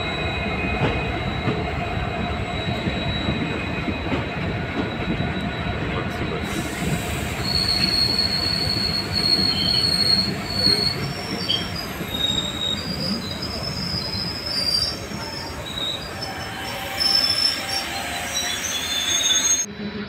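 Uttarbanga Express train wheels squealing on the rails, a loud sustained high metallic screech over steady rumbling rolling noise that continues throughout.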